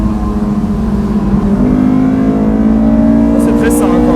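Honda S2000 engine revving while driving, a loud close steady drone rising slowly in pitch, with a faint brief squeal near the end.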